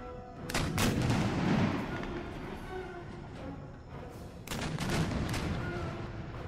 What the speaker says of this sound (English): Everybody fire shrapnel shot.